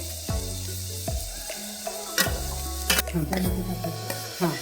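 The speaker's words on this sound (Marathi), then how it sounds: "आता आपण कांदा आपण चांगला परतून घेणार आहे" Onion sautés in a pan for an egg dish, a steady sizzle under repeated clanks and scrapes of the spatula against the metal, coming in uneven bursts.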